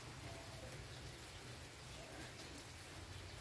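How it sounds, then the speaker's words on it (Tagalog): Rain falling steadily on plants in a rural province setting, a soft, even patter with no pauses, faint and distant, with no talking. "Ang ulan."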